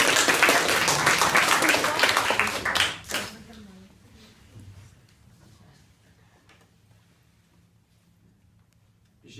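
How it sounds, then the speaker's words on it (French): A classroom audience at an improvised slam session claps loudly for about three seconds, then the applause stops sharply into a near-quiet room with faint movement and small taps. "Je veux bien des applaudissements aussi."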